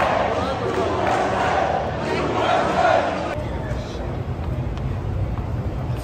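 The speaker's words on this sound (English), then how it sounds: "Really, really electric crowd" Large crowd cheering at loanDepot Park during the USA vs. Cuba 2023 World Baseball Classic semifinal, a loud sustained roar that eases slightly toward the end.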